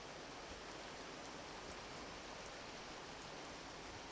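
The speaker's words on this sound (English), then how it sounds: "loud rain sounds." Loud, steady rain falls nonstop without a break, a dense close hiss that fills the whole stretch with no voices.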